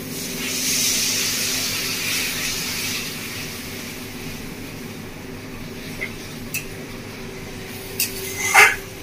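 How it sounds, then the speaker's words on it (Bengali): Water poured into fried, oil-releasing spice paste for Bengali village-style bhetki fish kalia, making a loud steady hiss and sizzle that tapers off, with a few faint clicks near the end. "এবার দিয়ে দেবো এর মধ্যে জল"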